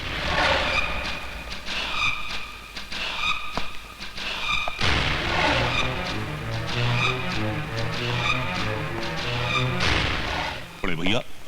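Motorcycles rally and skid through the rooms of a house in an action film scene, engines droning and roaring loudly amid sharp thumps, crashes and skidding bursts.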